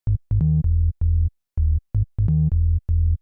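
A punchy FM synth bass made in Serum, oscillator B frequency modulated by oscillator A, plays a short rhythmic house pattern of staccato notes with brief gaps, loud and dry, alone without any voice.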